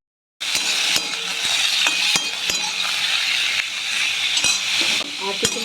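Potatoes drop into a little hot oil with mustard seeds, green chilli, salt and turmeric, setting off a loud, close, continuous sizzle with sharp clinks and scrapes of a stirring utensil against the pan; nobody speaks.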